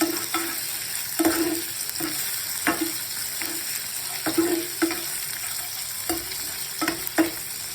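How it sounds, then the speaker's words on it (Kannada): Mutton fat and onions fry steadily in hot oil, a continuous close sizzle broken every second or so by the scrape and clatter of a spoon stirring the pan. "ಇದು ಸ್ವಲ್ಪ ಹೊತ್ತು ಆಯಿಲಲ್ಲಿ ಫ್ರೈ ಮಾಡ್ಕೊಬೇಕು ನೀಟಾಗಿ"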